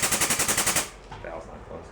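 An air-powered press brake bending 1/8 inch steel gives a rapid burst of hard, evenly spaced knocks, loud and close, then settles into a quieter hiss and low mechanical noise.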